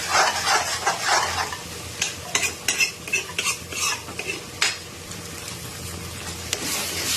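Boiled spinach paste sizzles in hot oil while a spoon stirs and scrapes the pan in steady, repeated strokes, close and clear with no talk.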